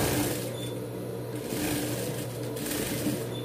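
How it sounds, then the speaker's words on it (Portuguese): A sewing machine stitches fabric for a dog bandana, a steady, fast mechanical whirr and hum running unbroken at close range and fairly quiet, with no talking. "Vou costurar."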